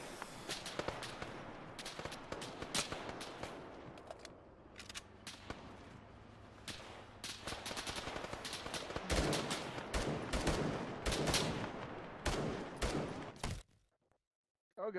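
Rapid, loud gunfire from a video game firefight, shotgun blasts among bursts of automatic fire cracking in dense clusters for about fourteen seconds before cutting off abruptly.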